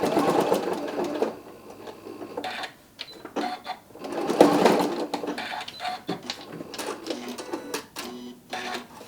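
A sewing machine top stitching a shark, bass or mermaid stocking, running in close, loud bursts of rapid needle chatter with brief pauses between runs.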